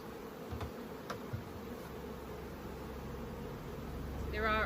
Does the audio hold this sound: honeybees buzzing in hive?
yes